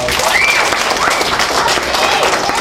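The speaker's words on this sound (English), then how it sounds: "give Amy another round of applause" An audience at a library magic show claps for a volunteer, a loud, close burst of steady applause with some whoops and cheering voices mixed in for a couple of seconds.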